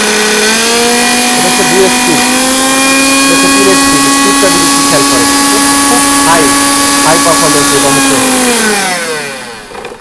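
A Philips 800W blender runs at normal speed, a loud, close, steady motor whine with a strong hum that holds level for about nine seconds, then winds down to silence.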